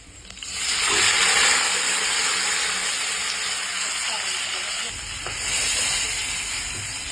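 Squid hits a hot pan for adobong pusit and sets off a sudden, loud hiss that settles into a steady sizzle, with a brief swell again near the end.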